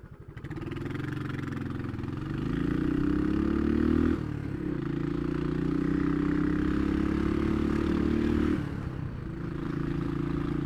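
A Royal Enfield Classic 500 motorcycle ridden through Brisbane city streets, its loud, thumping engine climbing in pitch through two gear changes, close and continuous.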